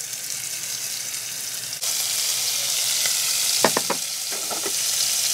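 Pork spareribs pan-frying in a hot wok with a little oil, a steady close sizzle that swells after a brief jolt, with a few sharp clinks of utensil against the pan near the end.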